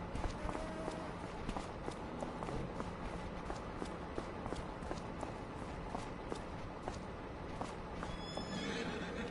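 Horses in Farming Simulator 25, with a faint neigh over scattered hoof clip-clop and walking steps against a constant outdoor ambience, no voices.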